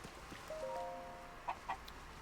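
A chicken in The Legend of Zelda: Tears of the Kingdom gives a few short clucks, soft and close, with a brief tonal game sound just before them and no talk.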